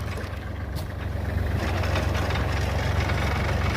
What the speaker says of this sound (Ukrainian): включаємо першу швидкість фрези